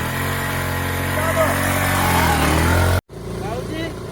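A motorcycle engine runs loudly and steadily up close, its low hum rising slightly before cutting off abruptly, then a quieter stretch follows with faint background noise; voices are heard over the engine.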